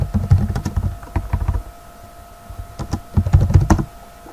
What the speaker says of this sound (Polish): no i wpisujemy komendę list disk